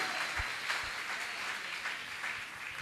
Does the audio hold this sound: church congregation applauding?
yes